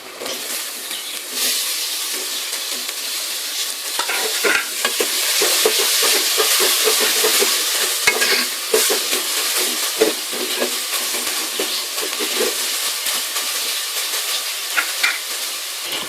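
Tomatoes stir-fried in a pan with green chillies for a white chickpea curry make a loud, close hissing sizzle broken by frequent rattling spatula strokes, with no one speaking.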